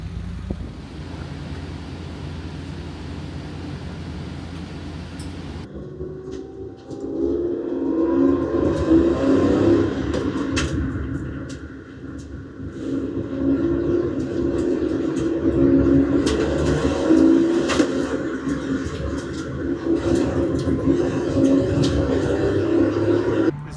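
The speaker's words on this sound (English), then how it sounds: "C1 just going around the track now." A moss-covered race car lapping a circuit through a chicane during a 24-hour endurance race, its engine a steady broadband roar that swells louder after a quieter opening and holds through the rest.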